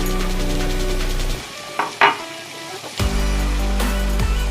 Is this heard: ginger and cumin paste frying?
yes